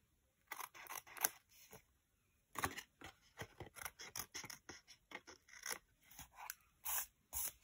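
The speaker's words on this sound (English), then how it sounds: "It's a little bit bigger than I hoped, so just going to trim that off here." Scissors trim a piece of paper for a stamped card project, giving a quick run of crisp, close snips and short rustles in irregular bursts, with no voices.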